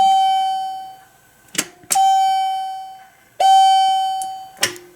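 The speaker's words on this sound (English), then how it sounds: "Complete with a generic chime." An elevator call station by GAL plays its generic chime: two bright electronic two-tone dings, each a sharp strike followed by a long ringing decay, loud and close with silence between.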